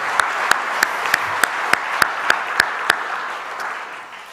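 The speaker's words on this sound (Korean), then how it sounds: "다시 한번 우리 박수 한번 할까요?" Church congregation applauding in welcome during a Sunday service, a broad wash of clapping with sharp, evenly spaced louder claps standing out in a steady beat before the sound gradually fades.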